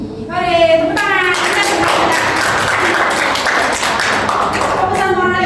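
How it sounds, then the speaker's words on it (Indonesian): A classroom of children claps hands after a Pythagorean theorem lesson, a dense, loud stretch of steady clapping with voices cheering over it, framed by speech from the teacher at the start and end. "Hore, tepuk tangan"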